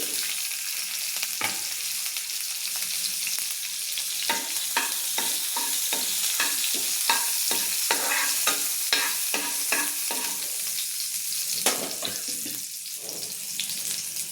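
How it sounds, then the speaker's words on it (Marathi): Garlic and chili sizzle steadily in hot ghee, with a string of sharp spoon-and-pan stirring clicks spread across the frying hiss, close and alone without voices. "तूप छान झाले गरम, त्याच्यात लसूण टाकायचा, थोडी मिरची"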